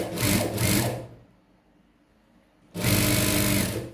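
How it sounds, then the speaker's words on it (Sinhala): A sewing machine stitches along a folded fabric edge in a beginner's practice session: a loud, close, rapid mechanical whirr, then a pause of about a second and a half, then a second steady run. "මේ පුට් එකේ කෙළවරට තියලා මහන්න පටන් ගන්න."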